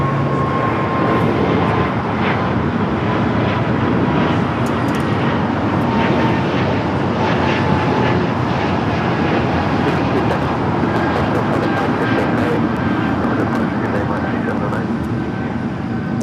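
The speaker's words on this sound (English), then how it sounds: "709 taking off to Pittsburgh on the A220-300." Engines of a Breeze Airways Airbus A220-300 taking off at Los Angeles airport give a sustained, even roar with a thin whine on top, lasting throughout, while people talk over it.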